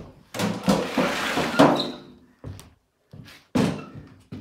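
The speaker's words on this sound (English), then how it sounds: "Move my wood pile here." Pieces of a wood pile are shifted by hand inside a cabin, giving a series of close, hollow wooden thunks and knocks separated by short pauses.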